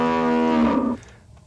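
A single cow lets out one loud, drawn-out moo that holds steady and then cuts off, followed by a moment of quiet.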